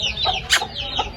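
Asil chickens and roosters at a Mianwali farm cluck in a steady low chatter, with a couple of sharper close clucks standing out over continuous rustling background noise.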